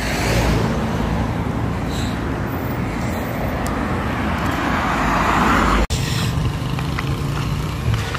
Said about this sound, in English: this road has a lot of traffic